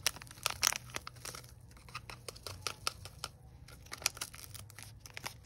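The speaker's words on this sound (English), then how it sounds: "Should rip it even more open." Close crinkling and tearing of a plastic packet, a series of sharp rips and crackles in irregular bursts.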